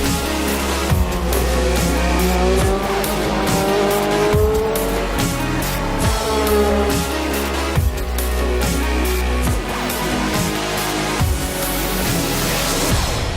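A DTM race car at full throttle on the Hungaroring circuit in Budapest screams through gear changes, with repeated pitch climbs and drops, loud and continuous with some tire squeal.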